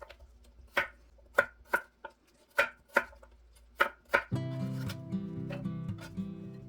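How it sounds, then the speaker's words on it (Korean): A kitchen knife chops garlic on a cutting board for a spring kimchi, giving a handful of sharp, close knocks at an uneven pace before a steady background sound takes over. "마늘도 한두 번 썰어줍니다."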